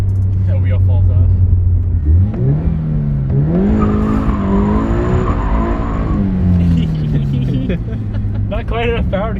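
Toyota FRS widebody car screaming hard against its rev limiter on track, the engine note climbing then holding with rapid stuttering cuts, loud and close throughout with a steady drone underneath.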